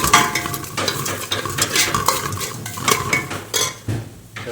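Onions with rock salt stirred in a dry pan before any oil is added, a metal spoon scraping and clinking in rapid repeated strokes with faint sizzling, close and steady throughout.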